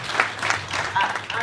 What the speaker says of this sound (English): A round of applause.